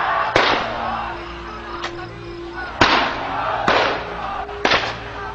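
Sharp gunfire cracks sound in a rough sequence of about five loud reports spaced irregularly over a rumbling background, at a gathering where people talk.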